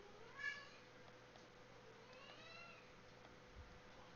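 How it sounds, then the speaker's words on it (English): A house cat meows twice at a distance, thin and faint, over steady low room noise and a quiet hum. "We have a kitty who needs some attention."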